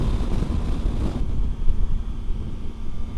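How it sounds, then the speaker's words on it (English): Strong wind buffets a microphone at a scenic viewpoint along Highway 191 in Utah during a motorcycle trip, a loud continuous roar with gusty surges and no talking. "It is very windy up here."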